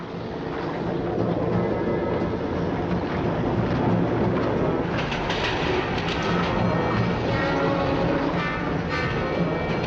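The Midland Pullman, a 1960s diesel express passenger train, runs at speed with a dense, steady roar and rhythmic clatter of wheels, loud and continuous throughout with no voices.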